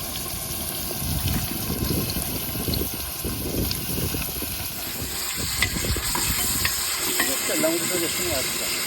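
A steady sizzle of onions sautéing in hot oil in a pressure cooker, with occasional stirring scrapes, close up and continuous, with no voices.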